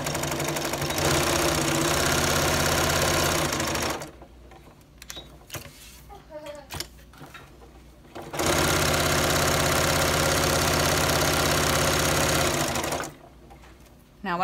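Domestic sewing machine stitching a reversible fabric dog bandanna, a steady loud mechanical whirr running for several seconds, pausing briefly amid small handling clicks, then resuming for another long continuous stretch.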